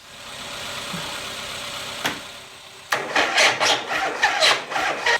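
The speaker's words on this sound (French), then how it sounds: "les premiers coups de démarreur, bientôt fini le kick" A motorcycle starter motor cranks in a quick series of bursts after a few seconds of low background noise, loud and close with a sharp click partway in.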